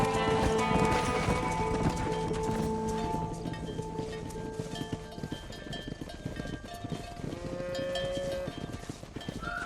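Cattle herd and horses in Red Dead Redemption, with steady clip-clop of hooves and lowing cows throughout, a dense continuous livestock bed with tonal music-like layers running alongside.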